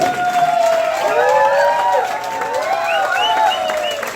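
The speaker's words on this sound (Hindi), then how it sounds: "ताली में दम होना चाहिए, जबरदस्त ताली।" Loud crowd applause and cheering at a DXN business gathering in Deoria, with sustained clapping, whoops and voices calling out over it.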